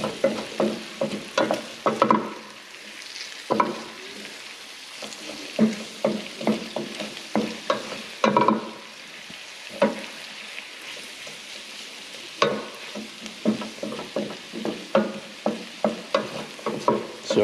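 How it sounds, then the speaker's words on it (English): Onions sweat in a pan while being stirred. The spoon gives repeated scraping and clattering strokes over a soft, continuous sizzle. "I think we did a good job with the onions sweating out"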